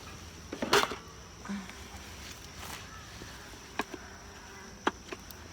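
Honeybees hum as a steady background drone while a hive is opened for inspection, with a few sharp clicks and taps from handling the equipment.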